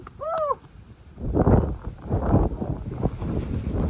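Strong wind gusts sweep across an open hillside during a bighorn sheep hunt in Idaho, with a roaring, buffeting rush against the microphone that surges and eases. A brief bird call sounds at the start.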